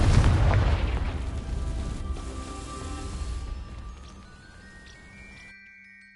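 A Confringo fire-blasting spell in Hogwarts Legacy goes off as a single booming explosion at the start, then rumbles and decays over several seconds into a thin ringing tail before cutting to silence.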